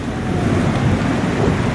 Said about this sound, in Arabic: أمطار بعواصف